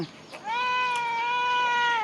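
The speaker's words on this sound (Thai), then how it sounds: "แมว" A cat gives one long, drawn-out meow close by, clear and sustained, after a brief softer sound.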